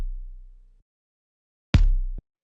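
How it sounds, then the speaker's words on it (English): Bright, punchy click layer of a techno kick drum with a little low end, struck twice: a decaying low hit at the start, then a sharp broadband transient after a pause, heard alone and up close. "It has a bit of low end as well, but it's mostly like the click of this kick sound."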